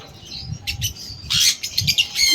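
Pet lovebirds squawk and chirp in sharp, rapid bursts, several birds calling close by with brief overlapping shrieks.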